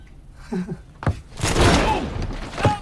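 Gunshots inside a store in a film: a sharp bang, then a louder sustained burst of blasts and clatter, and one more bang near the end, all close and forceful.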